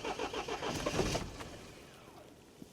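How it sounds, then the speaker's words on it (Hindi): Diesel car engine cranking and catching in extreme cold of about -20°C at high altitude, a loud rough churning that fades toward a steadier idle, with no talk over it. "अभी क्या करेंगे, एक बार गाड़ी स्टार्ट करते हैं।"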